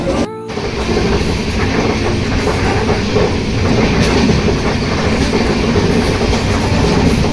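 Loud, continuous rumble and rattle of the Simhapuri SF Express running on its tracks at night, heard from close by inside a sleeper class coach with a steady rhythmic clatter.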